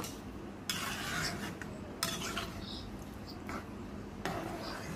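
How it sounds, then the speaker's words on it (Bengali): A utensil stirs food in a cooking pot, producing about four separate scraping strokes against the metal, fairly quiet, with a faint voice in the background. "তো এটা এখন নেড়ে চেড়ে দিব"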